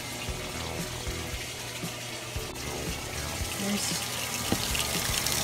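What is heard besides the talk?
water running from a tap while rinsing clothes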